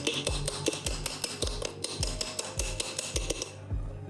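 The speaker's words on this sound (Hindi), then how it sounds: "अब इसके बाद इसे हम ठोक के लेवल कर लेंगे।" Repeated sharp metallic strikes ring out at a steady, fairly quick rhythm as a part from a Bajaj Maxima BS6 motorcycle engine is hammered level, close and loud with no talk.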